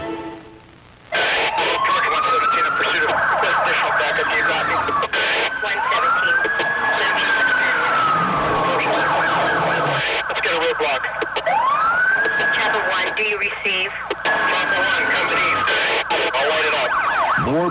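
A loud police siren wails in long rising and falling sweeps, close by and continuous, with some background noise mixed in.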